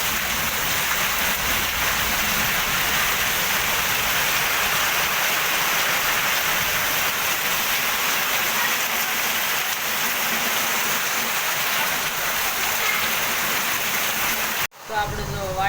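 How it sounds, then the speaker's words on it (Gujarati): Heavy downpour at a farm in windy weather, a steady dense hiss of rain pouring down without a break for many seconds before cutting off abruptly at the end. "તો ધોધમાર વરસાદ પડી રહ્યો છો."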